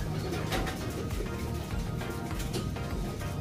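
A racing pigeon coos softly amid a steady broadband background of loft noise, the calls low and repeated, with no voices present.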